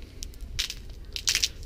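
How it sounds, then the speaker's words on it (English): Footsteps crunching on ice beside a 2015 Winnebago Brave 31C motorhome, a few close, gritty crushing steps in uneven rhythm over a faint low background rumble, with no talking. "I'm walking on some ice, so that's what that noise is."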